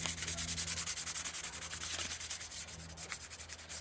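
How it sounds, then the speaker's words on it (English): Rapid, rhythmic back-and-forth rasping of fine-grit sandpaper rubbing a surface, steady and close, with no talking. "you can go right ahead into using your higher grit sandpaper, and basically just sanding"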